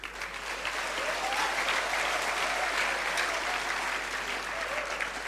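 An audience at a public lecture held at STPN Yogyakarta breaks into sustained, dense applause, many hands clapping steadily at moderate loudness without pause for several seconds.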